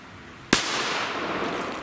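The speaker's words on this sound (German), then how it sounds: "Ja, schöner waren, Knall." Cobra 3 Black Powder 4 firecracker: one sharp, close bang that cuts through a quiet outdoor background, followed by a lingering hissing decay.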